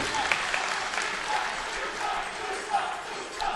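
A crowd cheers and applauds steadily at EVO 2010, a fighting game tournament, during a Melty Blood match, forming a dense, loud, continuous roar with scattered whoops throughout.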